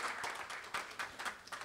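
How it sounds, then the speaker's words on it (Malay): An audience at a Malaysian album launch event gives brief, faint applause, heard as a quick run of soft, scattered claps at a distance. "saya rasa saya tak salah saya untuk mendengar tepukan untuk NS Resources dan Warner Music Malaysia"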